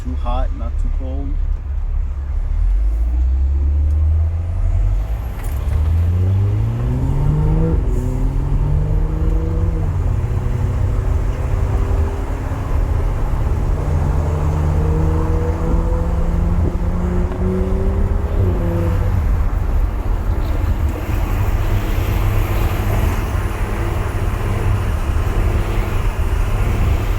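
A stage 2 tuned BMW 335i drives on the road, its engine rising and falling through several gears in loud, continuous runs, heard from the cabin under near-constant talk.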